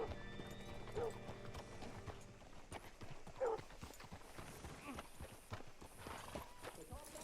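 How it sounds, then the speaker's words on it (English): Steady hoofbeats clip-clop along with an occasional horse whinny in the video game Red Dead Redemption 2, under ongoing speech and a busy background of ambient noise. "Hitch your horse up here."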